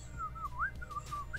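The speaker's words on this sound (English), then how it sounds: "The guy's like minding his business, whistling there." A man in the American Truck Simulator video game whistles a lilting, wavering little tune, clear and moderately close over a steady low engine hum.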